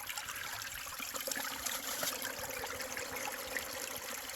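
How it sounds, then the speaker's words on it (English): Water and pebbles run steadily down a gold-prospecting sluice in a soft, continuous rush, like a small stream trickling over gravel, faint and unbroken with no voices. "It's fun hearing all the little rocks go down your sluice."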